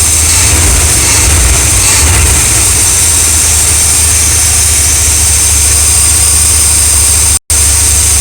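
Loud, steady RV engine idle, a continuous low rumble with a constant hiss and hum held close to the mic, broken only by a brief dropout near the end.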